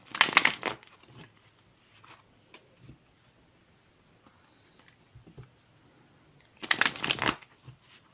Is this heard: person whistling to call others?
no